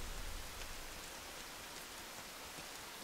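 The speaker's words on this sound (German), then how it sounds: "Nur der Regen fiel weiter in Strömen." Steady, dense downpour of rain from a video game, a continuous hiss of drops pattering on surfaces, loud and even throughout with no voices.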